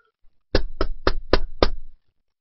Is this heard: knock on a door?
yes